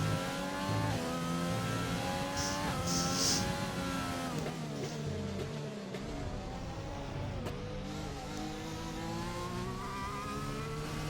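Video-game race cars, a Mercedes and a McLaren, battling on track: a continuous loud engine whine with rising and falling pitch as the cars accelerate and shift, with a faint tire squeal and no talking.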